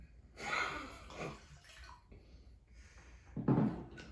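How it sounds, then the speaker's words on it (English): Bourbon pours into a glass in a couple of short gurgling bursts, close by, with a brief splash near the end and quiet pauses between. "Pour yourself out a little sip of regret."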